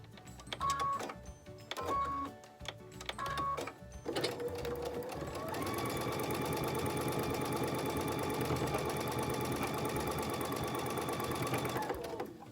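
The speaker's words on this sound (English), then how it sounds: "I'm going to sew those at 1/4 of an inch as well." A sewing machine chain-pieces quilt block pieces at a quarter-inch seam for an Underground Railroad block. A few short stitching bursts come first, then a steady, close, continuous run of the motor and needle.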